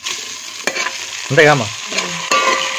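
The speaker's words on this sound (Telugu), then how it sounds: "ఇలా మిరపకాయలు, ఆలుగడ్డలు, క్యారెట్ గోలిన తర్వాత ఫ్రై చేసుకోవాలి." Chillies, potatoes and carrots stir-fried in a pan, with intermittent scraping stirs and a steady sizzle; a short spoken question interrupts midway.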